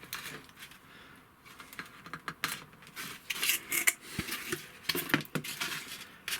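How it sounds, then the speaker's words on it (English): A brand new Stanley knife blade trims a scratch-built model diner, giving faint, close scraping and tapping clicks in an irregular patter with no talk. "I'm going to take my brand new Stanley knife blade, turn this upside down, give a quick trim."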